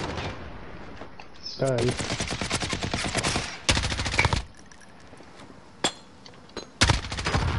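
Video game gunfire strikes at the player in rapid machine-gun bursts, with loud clusters of shots separated by short gaps and a few isolated cracks near the end. A voice speaks briefly between the volleys.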